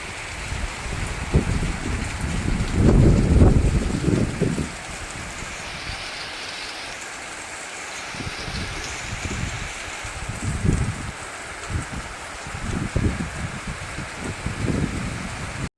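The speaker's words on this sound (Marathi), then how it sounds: "बाहेर खूप जोरात पाऊस सुरू झाला" Heavy rain pours steadily outside, a dense continuous hiss with low rumbling surges and thuds rising and falling throughout.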